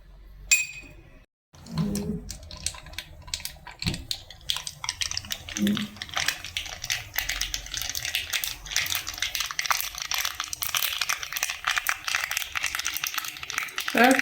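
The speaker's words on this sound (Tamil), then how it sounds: "அதுக்கு நான் வந்து தேங்காய் எண்ணெயில் தான் தாளித்து கொட்டுறேன்" Mustard seeds sputter and crackle in hot coconut oil, a dense run of sharp pops and clinks that goes on steadily after a short pause.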